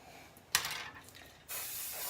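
A quick burst of aerosol hairspray onto back-combed hair, a brief pause, then a longer steady hiss of spray close to the microphone.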